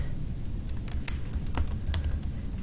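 Keys on a computer keyboard clatter in a quick, uneven run of close, crisp taps over a faint background hiss.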